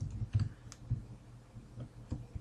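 Light, scattered clicks of typing on a computer keyboard during a recorded lecture, with a few soft keystrokes spread across a quiet room.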